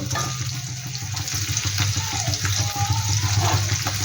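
Onion lightly frying in oil for Tangra chilli chicken, a steady dense hiss and bubbling sizzle, loud and close, running continuously with a faint hum beneath.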